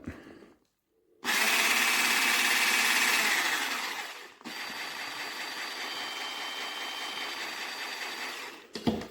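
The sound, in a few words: Braun MultiQuick 5 hand blender running with new attachment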